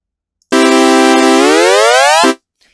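A sustained Harmless synth chord in FL Studio with note slide portamento: a bright, buzzy chord holds steady, then glides smoothly upward in pitch before cutting off, heard alone and loud.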